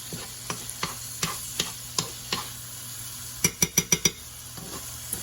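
Food sizzles steadily in a pan during a spaghetti squash recipe, with regular sharp taps of a utensil against the pan and a quick cluster of five clacks partway through.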